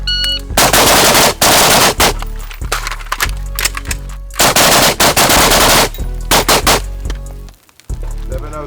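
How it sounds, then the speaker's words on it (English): Rifle fired through a Surefire RC3 suppressor on a shooting range, three rounds on each target: loud, close strings of rapid suppressed shots in quick bursts with brief pauses between them, no talking. "next string of fire, 3 rounds on each target"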